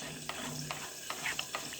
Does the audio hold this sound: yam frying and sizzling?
yes